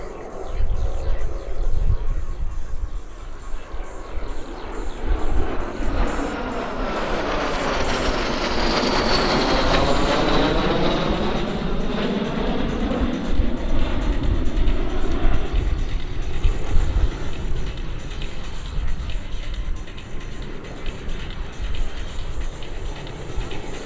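L-39 jets passing overhead in Diamond Entry formation at an airshow, a loud roar swelling to a peak with a sweeping tone before fading, with crowd and announcer noise beneath.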